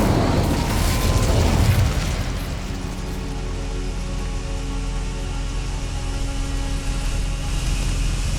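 An Incendio fire spell blast in Hogwarts Legacy: a loud whooshing burst that swells in the first two seconds, then settles into a sustained roaring rumble that slowly fades.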